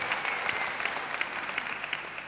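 A church congregation applauding during a minister's address, a fairly soft but continuous patter of many hands clapping, with slight surges in the rhythm.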